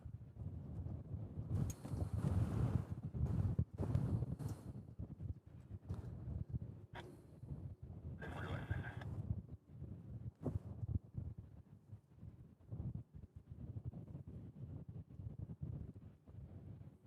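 Gusty wind with east-northeast gusts to 25 mph at Honolulu airport, blowing across the microphone as a steady low rumble with stronger surges and bursts, no talking.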